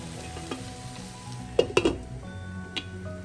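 Chicken curry sautés in a pan, a steady soft sizzle with a few sharp clinks of a spoon against the pot.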